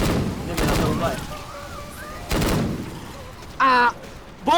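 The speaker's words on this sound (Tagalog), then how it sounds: "Sobrang ingay ng baril ko." Gunfire in the video game Left 4 Dead 2 comes as a few loud, sharp booming bursts spaced across the moment, with players talking excitedly between and over the shots.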